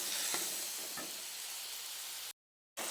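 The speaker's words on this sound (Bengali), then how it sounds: "এবার আমি জল দিয়ে দেবো" Taro and spices frying in a pan with water just added: a faint, steady sizzling hiss with a couple of soft stirring touches, cut by a short stretch of silence before the hiss resumes.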